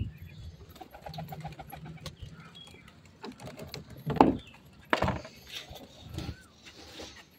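Pigeons cooing softly nearby in short repeated phrases, with flutters, light taps and rustling around them.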